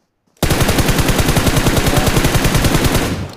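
Rapid automatic gunfire from the BGMI video game erupts abruptly and rattles on as a loud, continuous burst of evenly spaced shots for about three seconds before tapering off.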